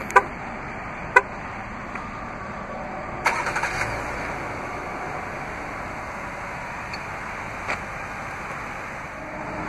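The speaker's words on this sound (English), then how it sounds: "Just double press the remote start button on the key fob." A Chrysler vehicle's engine starts by remote start from the key fob: a few sharp clicks, then the engine catches and settles into a steady, fairly faint idle outdoors with no talking.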